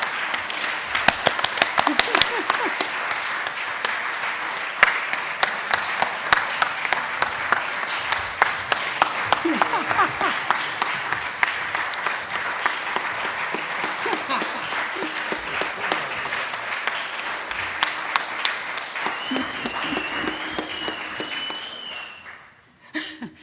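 A church congregation at a Sunday service applauds its property team volunteers with sustained, steady clapping that fills the room for about twenty seconds, then tapers off near the end, with a faint voice in the background.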